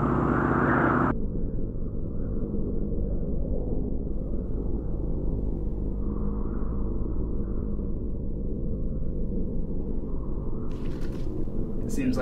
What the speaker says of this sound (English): Danforth and myself took our plane to their camp on the plateau, high on the slopes of Mount Erebus